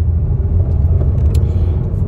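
Car driving with a steady low engine rumble and road noise heard from inside the cabin, loud and continuous, with no talk.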